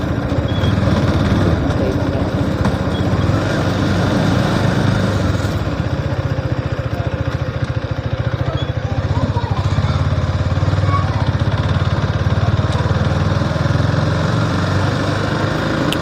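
A motorcycle engine droning steadily while riding, a close, constant mid-pitched hum with slight changes in load over about sixteen seconds, with talk over it at times.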